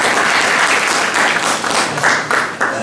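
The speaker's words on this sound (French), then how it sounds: "Vous applaudissez votre camarade." A roomful of university students in a thermodynamics class clap together in brief, lively applause that holds steady for a few seconds.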